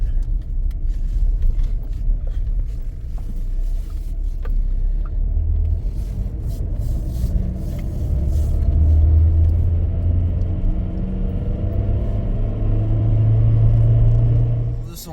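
Steady low engine rumble and road noise fill the cabin of a parked or idling car while waiting, with a voice talking over it throughout and faint rattling above.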